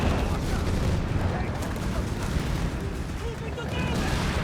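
Battle din from Company of Heroes 3, with gunfire and artillery merging into a dense, continuous rumble of overlapping blasts and crackle at close range.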